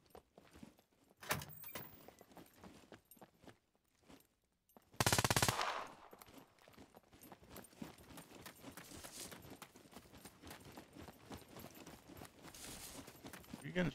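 Gunfire in the video game Scum during a PvP team deathmatch: a sharp, loud burst of shots near the middle, with scattered fainter bangs and game noise around it.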